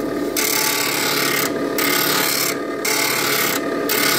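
A blade's primary bevel is ground by hand on a grinder, giving a loud, steady abrasive rasp broken by three short pauses as the steel is worked back and forth.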